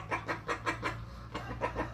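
Chickens at a Vietnamese poultry farm selling young hens and laying hens, clucking in a steady series of short, moderately near calls over a low background hum, with no talk.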